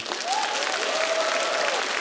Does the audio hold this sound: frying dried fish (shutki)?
no